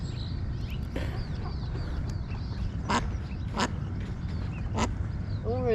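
A rescued duck at a reservoir quacks in several short, sharp bursts, near and fairly clear, over soft outdoor background noise.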